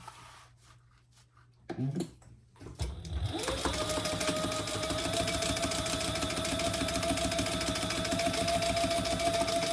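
A sewing machine top-stitches along the bottom zipper of a convertible crossbody phone pouch belt bag, starting after a few handling knocks and then running as a steady, loud, continuous whir with a sustained tone.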